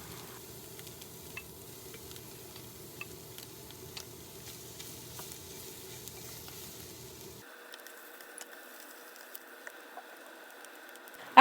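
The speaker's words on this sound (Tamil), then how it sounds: "அடுத்ததாக நம்ம கட் பண்ண சீவீட்ஸை உள்ளே போட்டு திருப்பி கொஞ்சம் நேரம் ஃப்ரை பண்ணணும்." Dried pollock and cut seaweed frying in sesame oil in a home kitchen pan for Korean seaweed soup, a steady low sizzle with light stirring scrapes that quiets partway through, then a faint crackle continues.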